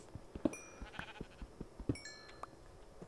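Two short, clear sheep bleats from Minecraft, the second coming about a second and a half after the first, over light tapping and clicking game sounds with no talk.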